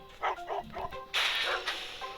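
Dogs bark at a house in the video game Robbery Bob 2, a run of four quick yapping barks followed by a louder, longer burst and a final short bark, close and clear with no talk over them.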